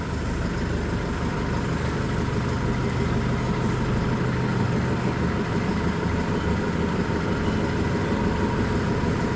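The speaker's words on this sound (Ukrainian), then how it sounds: "Якраз запустив навантажувач і одразу покажу як він працює" A Toyota 8FD50F diesel forklift with a 5-tonne capacity idles steadily, a loud, constant low engine rumble and clatter with no change in pace and no voices.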